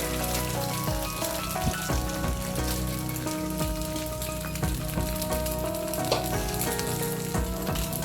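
Neer dosa sizzles loudly and continuously on an oiled pan spread with onion, a dense close crackle with no talking.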